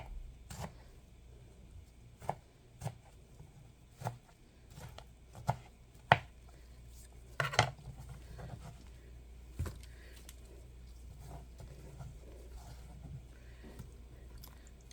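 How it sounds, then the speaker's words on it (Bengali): A knife chops vegetables for khichuri on a board with a dozen or so sharp, unevenly spaced taps over a quiet room, close and faint, without talk. "এভাবে আমি সবগুলা কেটে নেব।"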